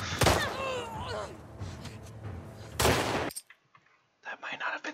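Shotgun blasts in The Last of Us Part II, two heavy booming shots close by amid gameplay effects and whistling sounds, with quieter clatter and a voice following.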